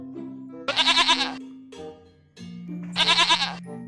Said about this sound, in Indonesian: ternyata ini hewan kambing teman-teman